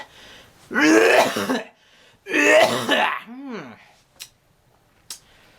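Two harsh, close coughs in quick succession, followed by a short vocal sound and a couple of faint clicks.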